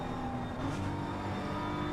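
A BMW GT3 race car engine drones steadily in a racing game at Bathurst, held near and loud at constant high revs on the downhill, with a faint whine over it and no voices.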